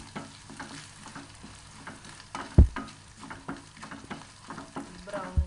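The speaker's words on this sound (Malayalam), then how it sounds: "ഇതൊന്ന് മൂപ്പിച്ചെടുക്കാം." Chopped coconut bits crackle and sizzle in hot oil in a pan, with frequent stirring scrapes and a couple of sharp knocks against the pan, all close and fairly loud.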